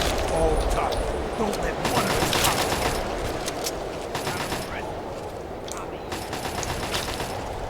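A companion's rapid gunfire in Fallout 3 rattles on continuously in dense automatic bursts, loud and close, with a voice talking over it.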